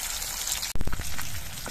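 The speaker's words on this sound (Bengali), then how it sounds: "একইভাবে বাকি মাছগুলো আমি ভেজে নিচ্ছি" Rupchanda pomfret fish fry in oil with a dense, steady sizzle, then a sudden louder burst of spattering as the frying flares up.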